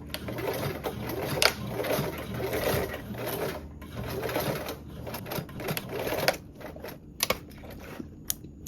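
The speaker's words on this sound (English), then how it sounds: "And then you can sew 1/8 of an inch away from this raw edge with a short straight stitch, back tacking at the beginning and the end." A sewing machine running a short straight stitch along a raw edge of a duffle bag, a fast steady mechanical whir in bursts with brief pauses, then a few sharp clicks and taps toward the end.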